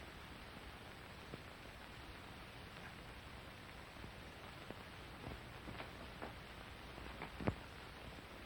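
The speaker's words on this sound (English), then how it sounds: "The rain ought to let up soon." Steady rain falls, a soft even hiss with a few faint drip-like ticks, heard alone indoors in a 1947 film scene.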